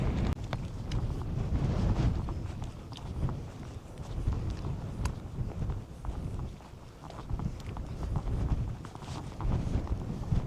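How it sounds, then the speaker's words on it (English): Strong wind roars and buffets steadily across a forest trail in Montreathmont Forest, loud and continuous, with occasional footstep-like thumps beneath the gusts. "But the wind is something fierce now."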